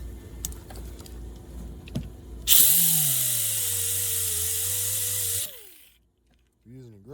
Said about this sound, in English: this is just an old CP angle grinder that I've got